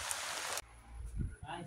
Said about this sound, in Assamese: বৰষুণজাক ডাঙৰকৈ আহিল